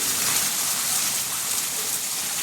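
Heavy rain pours down continuously, a dense, even hiss of water striking surfaces that stays loud and unbroken with no voices over it.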